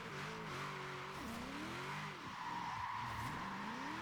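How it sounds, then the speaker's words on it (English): A car engine in Forza Horizon 4 revs with the clutch held in, so the car stays still. Its pitch climbs and drops in repeated sweeps over a constant roar. "if you have the clutch and you hold it and rev your engine, you don't actually go forward"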